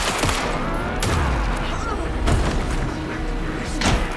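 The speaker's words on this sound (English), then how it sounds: "Anderson, pin him down with gunfire for me to get the light on him" Gunfire in the video game Alan Wake 2, a few sharp loud shots at irregular intervals over a dense, rumbling background.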